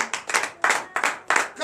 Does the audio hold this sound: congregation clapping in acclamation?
yes